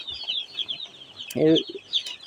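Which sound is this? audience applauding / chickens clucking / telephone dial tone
chickens clucking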